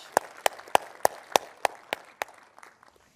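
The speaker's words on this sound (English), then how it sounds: "Let's give him one more round of applause." A small number of people at an industry AI event clap for a speaker, with about eight slow, distinct, evenly spaced claps that taper off into fainter ones, with no talking.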